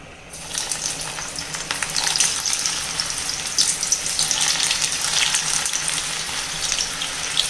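Banana stem (vazha pindi) pieces dropped into hot oil in a pan set on a stove, with a loud, steady sizzle and crackle that builds up quickly and continues close up with no talking.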